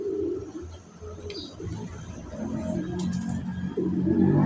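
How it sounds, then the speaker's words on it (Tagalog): Racing pigeons coo softly at a loft amid low outdoor background noise, their faint murmuring calls rising and falling without any talk. "Dalawa na kalapati natin."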